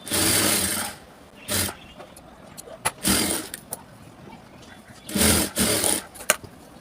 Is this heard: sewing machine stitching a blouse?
yes